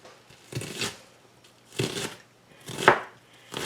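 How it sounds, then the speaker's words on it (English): Knife chopping an onion, four separate close crunchy cuts spaced about a second apart, with quiet pauses in between. "so we're going to chop 1 onion"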